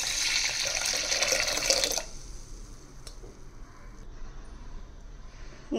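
Water rushes and splashes steadily into a cooking pot of garlic and crushed pepper for about two seconds, then stops, leaving quiet room tone with a few faint knocks.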